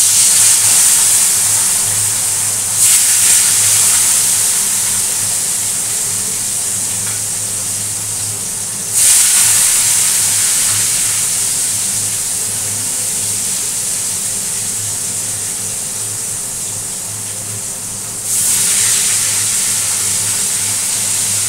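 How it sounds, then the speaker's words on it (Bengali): Fish fry in hot oil in a pan, a loud, dense and continuous hissing sizzle held close throughout, swelling briefly several times as pieces are added or turned, with no talk. "এবার মাছগুলো ভেজে নিই।"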